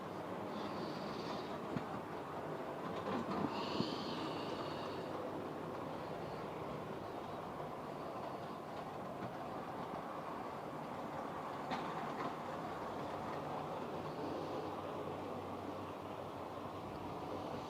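Model trains in Irish Rail livery run around a layout track, a soft continuous rolling rumble with faint clickety-clack and a few brief squeals, steady and quiet throughout.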